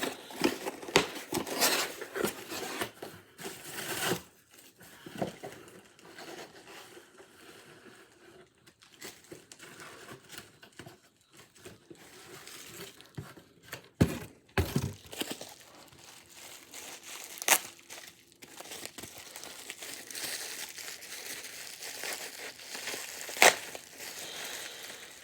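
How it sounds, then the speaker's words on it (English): Cardboard box being cut open and unpacked by hand: a steady run of close crinkling, crushing and tearing noises with uneven bursts and short pauses, no voices. "Just gotta cut the box a little bit more open."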